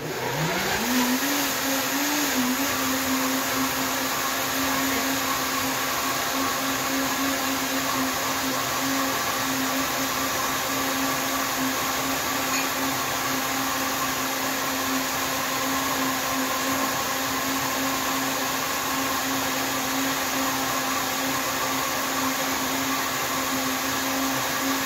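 A blender whirs continuously and loudly, crushing a tropical smoothie with orange juice, its motor spinning up at the start and then holding a steady, close, high drone with no talk.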